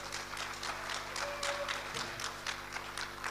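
Audience applause at a live crypto conference event in Hyderabad, India, a steady wash of many hands clapping at moderate volume throughout, fairly distant with no voices over it.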